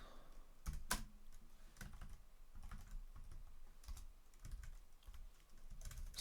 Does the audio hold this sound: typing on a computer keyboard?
yes